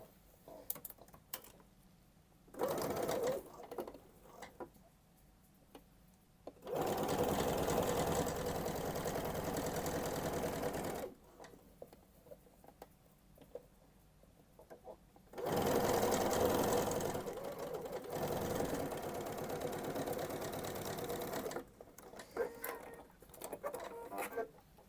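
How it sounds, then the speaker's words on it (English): A sewing machine stitches the side seams of a luxury bag's keyhole sleeve, running in two long whirring bursts of several seconds each, close and fairly quiet, separated by pauses with small handling clicks. "I am now going to sew up these side seams and then do the gathering stitches around the top"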